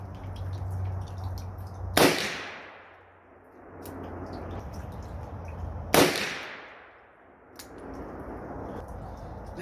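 Two loud gunshots from a Ruger Super Redhawk 10mm revolver firing hot Extreme Penetrator rounds outdoors, each a sharp crack with a long ringing decay, about four seconds apart, with no talking.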